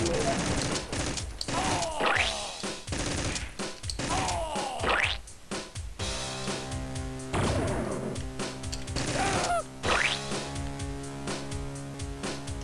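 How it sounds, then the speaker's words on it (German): Laser gun fire in Metal Blob Solid, a rapid fusillade of sharp zapping shots with bright descending zips, then sustained tonal electronic bursts, loud and close. "Der hat mit einer Lasergun geschossen"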